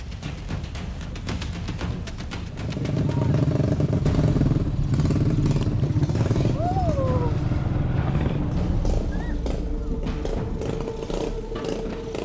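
A motorcycle taxi carrying cardamom drones steadily nearby on a rough rural road in Cianjur, Indonesia, with rattling and clattering over uneven ground and a few faint calls in the distance.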